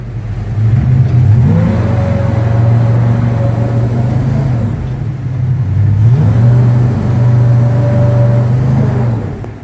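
A Northriver Kodiak jet boat engine runs in reverse on the water, a loud steady drone holding throughout, rising twice as the throttle is pushed up, with no voices.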